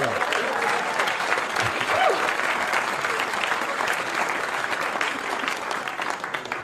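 A comedy club crowd applauding during a stand-up set, a dense, steady wash of clapping that stays loud throughout, with some voices mixed in.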